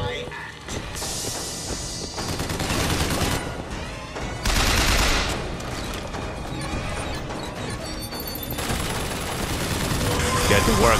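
Dense bursts of turret gunfire in the BioShock Infinite video game, sustained and loud, layered with crashes, mechanical clatter and game sounds across the whole stretch, with voices mixed in.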